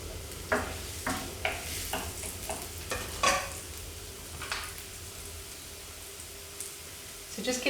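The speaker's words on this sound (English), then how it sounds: "So just give your onion a wee stir in the frying pan." Onion frying in a frying pan while being stirred, a steady low sizzle broken by several sharp scraping and tapping clicks of the utensil against the pan, fairly close and without talk.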